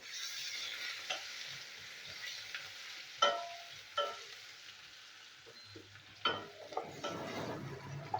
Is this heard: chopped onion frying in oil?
yes